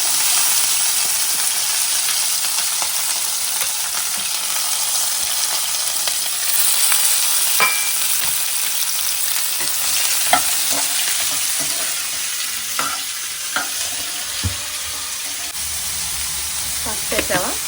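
Sliced capsicum fries in a home kitchen pan with a steady loud sizzle, broken by occasional scraping stirs and clicks of a spatula against the pan.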